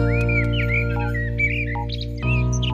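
A cartoon little bird chirps in quick, bright tweets and whistled calls over a steady background tone, close and clear, with no talking.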